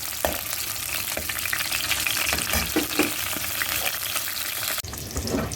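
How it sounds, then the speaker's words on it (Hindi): Dense, loud sizzling and crackling of green chillies frying in hot oil, with occasional stirring scrapes, continuous throughout. "हरी मिर्चें रह गई थी, मैं अब डाल रही हूँ थोड़ी सी फ्राई करके।"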